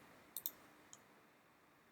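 A computer mouse clicked while publishing an upload, a few faint, crisp clicks spaced apart, with two close together early and one near the end, over near silence.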